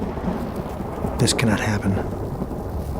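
A thunderstorm rolling over the African savanna near termite towers, with low rumbling thunder and steady rain noise throughout, a brief louder crack in the middle, and a voice speaking briefly over it.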